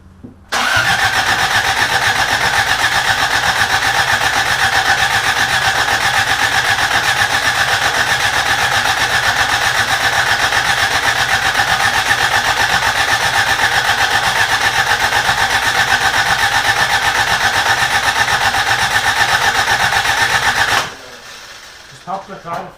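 A Toyota Corolla engine cranks and catches, then runs loud and steady with a constant mid-range drone for about twenty seconds before cutting off abruptly near the end.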